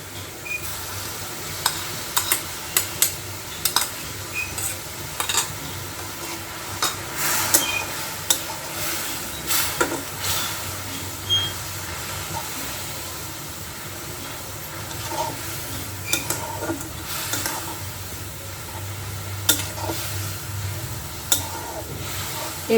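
Boiled, drained papaya pieces go into a pan of thick sugar syrup for Bengali plastic chutney, sizzling steadily while a utensil scrapes and stirs, with sharp clinks against the pan scattered throughout.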